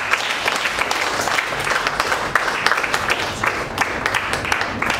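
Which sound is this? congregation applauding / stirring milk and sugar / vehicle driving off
congregation applauding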